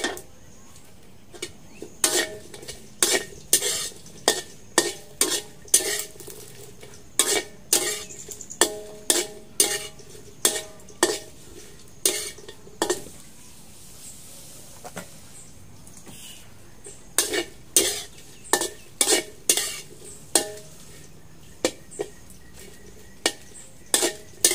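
Chilies dry-roasted in a pan and stirred, with repeated sharp metallic scrapes and clinks of a utensil against the pan in irregular bursts and short quiet gaps between them.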